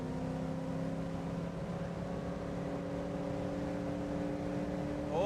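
A Ford Falcon car engine holds a steady drone with strong harmonic hum while shifting back a gear, the tone staying even and close throughout with a slight rise at the very end.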